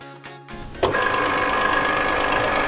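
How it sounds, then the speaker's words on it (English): A Cricut cutting machine whirs steadily while cutting iron-on vinyl, starting with a few mechanical clicks and then settling into a close, continuous motor hum. "we are going to insert it into our Cricut"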